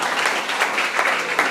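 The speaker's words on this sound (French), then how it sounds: "Applaudissons le Seigneur pour ses paroles." A church congregation applauds together, a dense, steady burst of many hands clapping that holds evenly for a moment.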